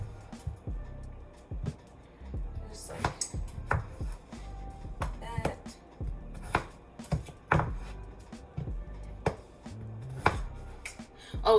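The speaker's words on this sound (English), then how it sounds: "I'm gonna cut up these potatoes" A knife chops potatoes on a cutting board in a home kitchen, sharp irregular thuds spaced unevenly, close and fairly quiet with no talking.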